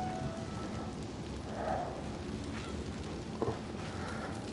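Rain falls steadily outdoors, a continuous soft hiss of drops hitting surfaces, even and moderately quiet throughout with no talking.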